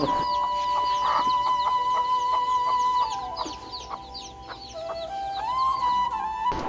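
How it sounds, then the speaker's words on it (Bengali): Small newly hatched chicks and chickens cluck and peep in a rural yard, a busy run of short chirps and clucks with one sustained tonal call, fairly close and clear. "মুরগির বাচ্চা ফুটছে, দেখেন ছোট ছোট মুরগির বাচ্চা"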